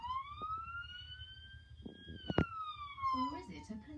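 A bird mimics a police car siren with a faint, clear, rising-and-falling wailing whistle, joined by a brief sharp click and a few soft chirps, with a voice speaking near the end.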